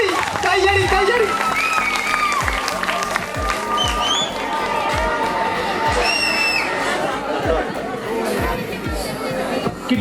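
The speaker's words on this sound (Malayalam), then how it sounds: "കയ്യടി" Audience applause rings out through a crowded hall at an engineering college event in Mala, dense and sustained for the whole stretch, with crowd chatter mixed in and dull rhythmic thumps underneath.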